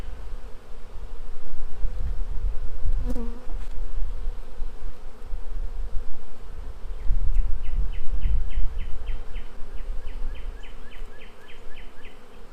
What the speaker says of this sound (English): So that's 6 frames, 5, it's really like 5 full frames of bees.